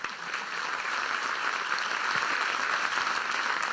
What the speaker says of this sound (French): je vous demande d'applaudir de nouveau Monsieur Philippe Royer